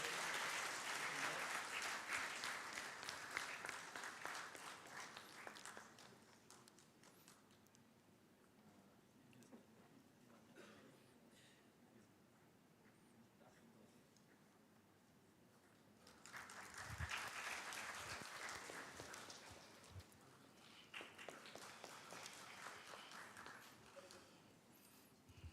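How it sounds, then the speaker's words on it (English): Audience applause at a National Science Day lecture, a dense, steady patter of many hands clapping that swells at the start, softens in the middle, and rises again later, fairly distant and quiet. "Let's have a big round of applause for them once again."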